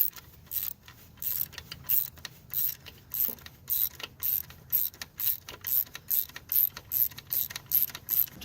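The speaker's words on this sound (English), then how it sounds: "Tighten that all the way until you get the other bolt tightened." A ratchet clicks in steady, rapid strokes while tightening an alternator bolt on a 2000 Pontiac Sunfire GT with the 2.4 engine, each burst of ticks close and crisp with short pauses between pulls.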